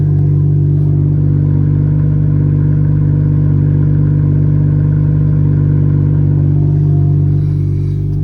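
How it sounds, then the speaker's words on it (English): Exhaust from a BMW G42 M240i with a muffler delete, heard from inside the cabin in Sports Plus mode: a loud, steady, low engine drone that holds constant before easing slightly near the end. "there's going to be a good bit of exhaust noise"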